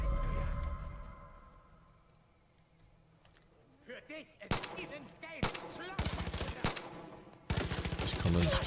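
A burst of loud gunfire in the video game Far Cry 5 erupts after a quiet stretch, sharp repeated shots with some rapid volleys, over a low rumbling background.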